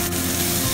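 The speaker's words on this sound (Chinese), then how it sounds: "牛肉用个镬铲一散它" Minced beef is broken up with a wok spatula while stir-frying for beef mapo tofu, a dense, loud, steady sizzle with no talk.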